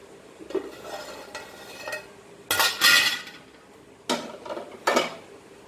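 A small pan is handled on a stovetop with a few loud metallic clanks and scrapes in bursts, separated by quieter rustling and soft knocks, all close up.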